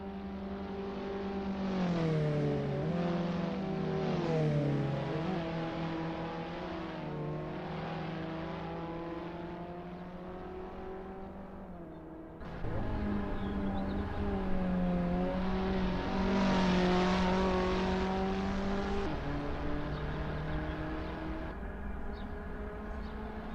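Abarth 500 racing car engine in the Assetto Corsa racing game, heard on a practice lap at Prague, revving steadily with shifting pitch as gears change, loud and continuous with no talk.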